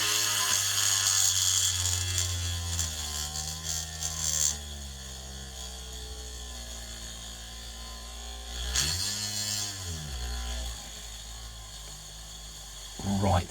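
A small USB-powered drill whirs steadily while boring holes through a circuit board, a thin motor whine that dips and shifts pitch a few times as the bit bites, close up with no talking.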